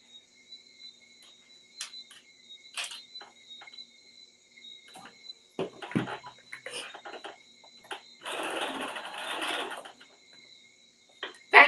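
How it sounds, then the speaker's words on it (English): A sewing machine understitches a seam allowance to a facing on a Simplicity 9598/9599 garment: scattered clicks and handling noises, then a dense stitching run of about two seconds, over a faint steady high whine. "I'm just going to understitch my seam allowance to my facing"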